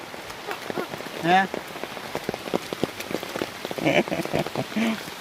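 Heavy rain patters steadily on a surface, close and fairly loud, with a few voices, including children, speaking over it now and then.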